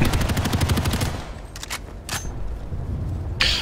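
Gunfire during a team operation: a fast, loud burst of rapid shots up close, then a pause followed by a few separate single cracks, with one more sharp report at the end.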